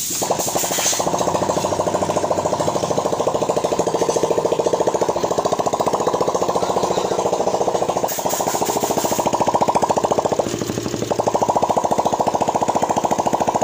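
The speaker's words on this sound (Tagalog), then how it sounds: "Try na natin pandarin kung one kick na lang." A Suzuki Raider 150 motorcycle engine catches after a kick and runs with a loud, steady rattling idle, the tone shifting slightly as the throttle changes.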